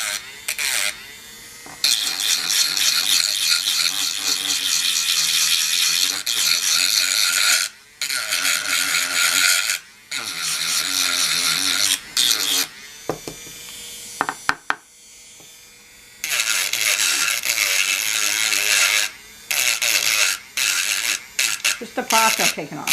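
Plaster and old glue being scraped off a doll with a small tool, giving repeated bursts of close, gritty rasping and scratching that stop briefly now and then, with no one talking.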